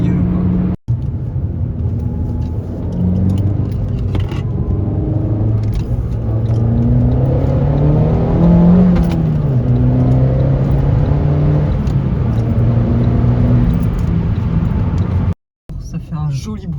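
Car engine revving with exhaust pops and crackles, heard from inside the cabin of a car with 106,000 km; a steady loud drone with rising and falling pitch runs throughout, briefly cutting out near the end.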